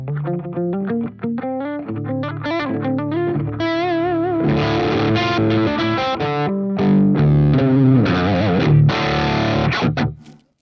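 Electric guitar played through an Apollo 7 pedal set to its center position, giving a loud, saturated distorted tone with rich ringing harmonics as chords and single notes sustain and change, stopping abruptly at the end.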